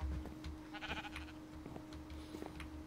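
Sheep bleats from the game Minecraft, several short wavering calls over a steady low game hum and background noise, with no talking.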